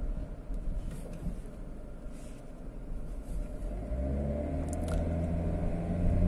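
A 2007 Toyota Corolla Axio being driven, heard from inside as a steady low engine and road rumble that swells slightly as the car picks up speed.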